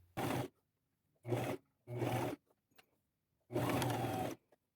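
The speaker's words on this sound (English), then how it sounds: "Now I'm going to go sew right across the top, and I'll be playing with these pleats as I sew, and I'm going to use a zigzag stitch." A sewing machine running a zigzag stitch across pleated fabric from a thrifted dress remnant, in four separate bursts of steady mechanical whirring with short quiet gaps between them.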